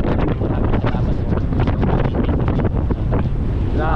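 Strong typhoon wind roars and buffets the microphone in a loud, continuous gusting rush with no voices.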